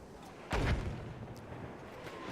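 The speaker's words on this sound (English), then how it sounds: "Mortars are going out into the centre of the flag here" A heavy mortar round fires in a multiplayer shooter match, one deep booming thump followed by a rumbling tail that fades under faint background battle noise.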